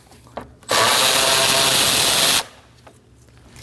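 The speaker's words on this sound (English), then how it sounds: "Using a 10mm socket, go ahead and take that bolt out" A power tool with a 10mm socket spins out a bolt near the cooling fan of a 2011-2016 Kia Optima 2.4L, one loud buzzing burst lasting under two seconds between quieter handling noises.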